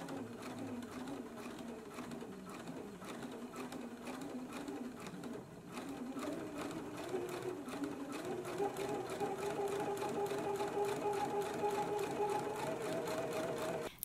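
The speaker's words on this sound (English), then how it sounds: "now we can go to the sewing machine and we're going to stitch this down at 1/4 inch seam allowance" Sewing machine running a steady straight stitch to finish the edge of a dress facing at a quarter-inch seam allowance, a continuous close mechanical whir with fast rhythmic needle ticking that grows slightly louder partway through.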